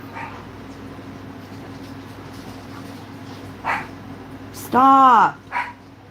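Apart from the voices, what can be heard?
dogs barking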